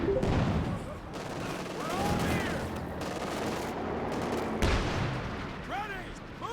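Sustained video-game gunfire at a fighting position, dense overlapping rifle and machine-gun bursts with distant booms, steady and loud throughout, with chirping whizzes of rounds passing and shouted voices mixed in.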